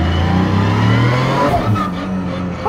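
A high, steady whine from straight-cut dog gears in a sequential gearbox rises and falls with engine revs inside a loud Toyota Yaris race car cabin, with a big turbo, over a rumbling motor.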